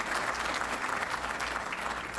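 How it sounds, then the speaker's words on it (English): A round of applause from the audience at a community luncheon, a steady, even wash of many hands clapping, fairly soft and heard alone without talk. "I want you to give them a round of applause"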